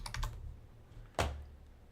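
Computer keyboard keys are tapped as a stock symbol is typed in, a quick cluster of close clicks followed by a single sharper keystroke, quiet and without speech.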